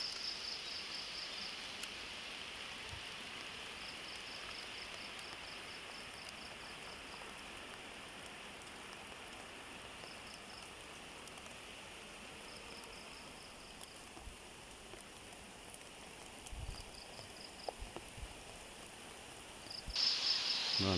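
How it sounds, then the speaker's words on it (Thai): Soft, steady rain from a storm hisses throughout, with a faint high insect trill pulsing on and off and a few louder drips near the end. "ฝนตกครับ"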